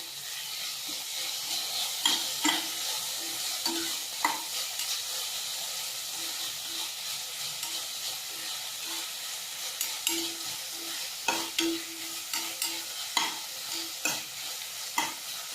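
Vegetables being sautéed in a pan for kodo millet sambar. A steady sizzling hiss runs throughout, broken by irregular scraping and stirring clatters of a spatula against the pan, close by with no speech.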